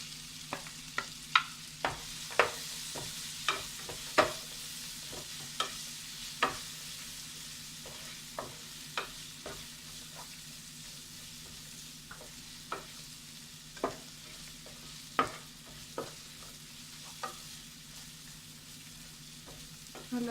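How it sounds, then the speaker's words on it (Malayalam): Coconut pieces stirred into masala gravy in a frying pan for a Kerala beef fry, a steady low sizzle broken by a regular run of sharp spoon scrapes and clicks, close by with no talking. "ഇതിലേക്ക് തേങ്ങാക്കൊത്ത് ചേർത്ത് കൊടുക്കാം."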